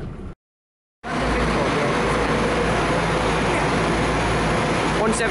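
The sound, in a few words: Chiltern Railways train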